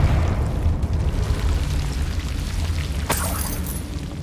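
A Confringo spell explosion in the Hogwarts Legacy video game, a loud low rumbling boom that slowly fades, with a sharp crack and brief crackle partway through.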